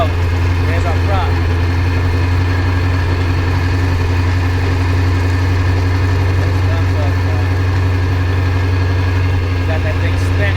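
A Sea Ray 210 Monaco boat's engine, fitted with a new transom assembly and exhaust gaskets, runs out of the water with its prop spinning, giving a loud, steady, close low hum throughout.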